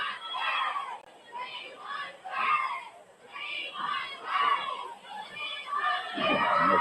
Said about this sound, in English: And the crowd is kind of split. So you hear a yell of "We want,"